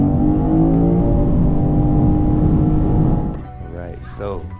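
A 2023 Lexus IS 500 F Sport pulls hard from a 40 mph roll, its engine droning loudly and rising steadily before easing off, with a voice briefly heard near the end.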